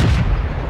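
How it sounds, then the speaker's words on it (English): Sturmpanzer II tank gun firing in the World of Tanks video game, a single heavy booming blast with deep low rumble, loud and alone. "that was the Sturmpanzer 2 firing at me"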